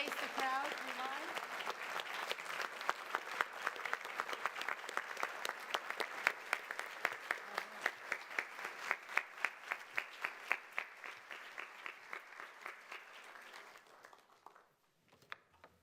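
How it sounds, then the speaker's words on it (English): A round of applause fills a county board of supervisors meeting room, a sustained crowd clapping with sharp individual claps standing out, moderately loud and steady for most of its length before tapering off to a few scattered final claps. "join me in recognizing them with a round of applause"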